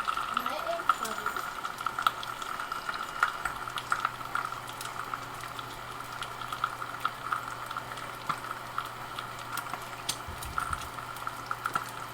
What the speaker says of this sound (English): Mommy's eggs bubble.